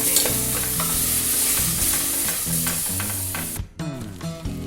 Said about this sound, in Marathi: थोडासा आपण तेल आणि त्याच्यामध्ये आता टॅमॅटोची पेस्ट टाकणार आहे छान परतल्या जाईल